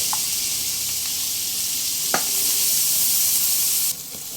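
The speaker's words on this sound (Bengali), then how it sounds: "পেঁয়াজ একটু নরম হয়ে আসা পর্যন্ত ভেজে নিয়েছি" Chopped onion sizzles in white oil and a small piece of butter, a loud continuous frying hiss broken by a few stirring scrapes and clicks, then quieter near the end.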